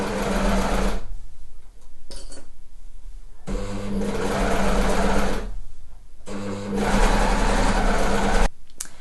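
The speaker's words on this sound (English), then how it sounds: "Now the overlocker is going to sew here, that's where my left hand needle is going to go in" An overlocker runs in three fast, humming bursts as it sews and trims a sweatshirt shoulder seam, each run steady and close, separated by brief pauses with small handling noises.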